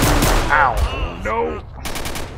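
Gunfire erupts in STALKER: Shadow of Chernobyl during a bandit fight at the Garbage, a few short loud shots breaking through excited shouting voices.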